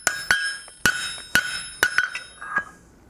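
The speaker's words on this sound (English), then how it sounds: "So I switched to my 2-pound hammer and found a nice corner on the anvil" A 2-pound hammer strikes on the corner of an anvil while forging a roasting fork, a bright ringing clang repeated about seven times in an uneven rhythm, close and loud with lingering metallic tone.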